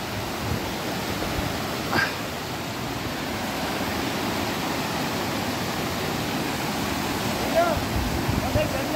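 A steady, even rush of falling water, broad and continuous like a nearby waterfall, with faint voices barely audible over it.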